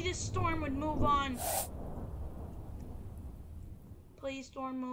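Heavy rain pours during a video-game storm, a broad steady hiss with low rumble, framed by brief voices at the start and end.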